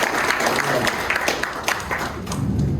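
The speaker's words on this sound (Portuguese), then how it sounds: "eu quero que vocês recebam ele com uma salva de palmas" An audience in a Brazilian hypnosis and belief-systems talk claps to welcome a guest speaker onto the stage, a steady wash of applause lasting a few seconds with a voice faintly underneath.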